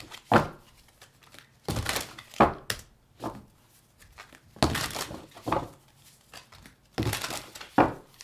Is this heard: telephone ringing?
no